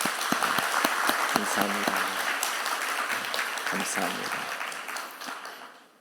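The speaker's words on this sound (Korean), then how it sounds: "한번 격려와 사랑의 박수 한번 보내주세요" Congregation applauding in a church service, steady dense clapping with someone speaking over it, the applause fading toward the end.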